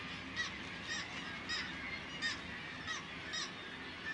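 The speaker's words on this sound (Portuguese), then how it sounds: "Na Islândia, milhares de gaivotas tridátilas descem dos penhascos de Orstrandir." Kittiwakes on sea cliffs in Iceland give repeated harsh calls from a large colony, sounding at a moderate distance over a steady background wash.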